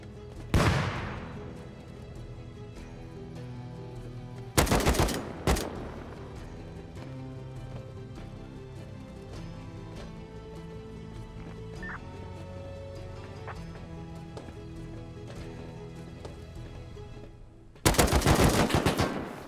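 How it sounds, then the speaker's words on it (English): AK assault rifle bursts in the Rust video game, with three loud, sharp volleys of rapid automatic fire separated by longer gaps of quieter ambient game sound. "Wait, it's another AK."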